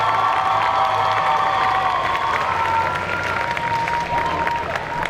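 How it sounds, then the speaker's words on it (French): A convention crowd at a Belgian cosplay competition selection claps and cheers loudly as the jury walks onto the stage, a sustained roar of applause with shouts and whoops and some voices mixed in. "je vous demande d'applaudir, mais vraiment super giga fort, le jury s'il vous plaît qui arrive sur scène"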